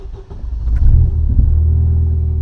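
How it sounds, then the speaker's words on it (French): Car engine with a slipped timing belt and an emptied fuel rail cranks briefly, then catches and settles into a loud, steady low rumble at close range. "Déjà, ça cherche à démarrer."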